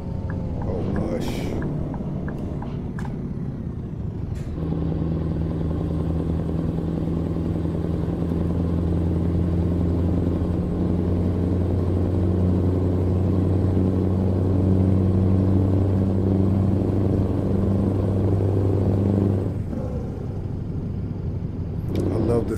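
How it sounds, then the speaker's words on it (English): Euro Truck Simulator 2 truck engine idling and droning at steady load, a low harmonic hum lasting most of the stretch between brief bursts of noise at the start and end. "Sound of this truck."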